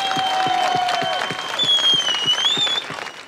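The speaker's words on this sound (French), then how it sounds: "sous les applaudissements de la foule" Crowd applauding as a blacksmith turns a sword into a ploughshare, dense sustained clapping from many hands, with a voice speaking over it and tonal sounds running through it.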